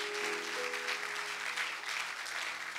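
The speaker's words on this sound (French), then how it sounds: "Acclame pour le Seigneur." A church congregation applauding, a dense, steady wash of clapping from many hands filling the room, with a faint sustained tone beneath.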